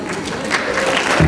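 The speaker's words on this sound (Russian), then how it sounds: "Аплодисменты, друзья." Audience applause fills a graduates' forum hall, a steady dense clatter of many clapping hands sustained throughout, with a slight swell near the end.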